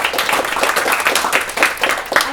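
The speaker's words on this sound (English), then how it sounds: "How about we give our judges a clap while they continue to work" An audience claps for the judges at a Falling Walls Lab event in Melbourne, giving dense, continuous applause from a crowd nearby, loud and without talk.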